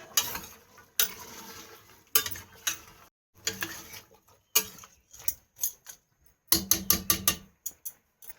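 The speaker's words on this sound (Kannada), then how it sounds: "ಬಟಾಣಿಯನ್ನು ಕೂಡ ಸೇರಿಸಿಕೊಳ್ತಾ ಇದ್ದೇವೆ" Peas are tipped into a pan and stirred with a utensil for veg pulao, giving close, intermittent bursts of scraping and clinking separated by short pauses.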